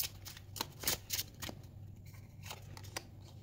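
Tarot cards being shuffled by hand in several quick riffling bursts, close and fairly quiet, with a low steady hum underneath and no talking.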